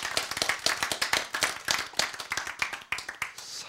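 A church audience clapping along during a Bible lecture, a dense run of quick, sharp hand claps in a loose, brisk rhythm, close and fairly loud with no talk over it.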